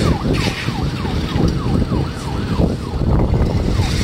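A wailing emergency vehicle siren, steady and fairly loud, moves past a covered bridge during a festival, mixed with the rumble of road traffic and crowd noise.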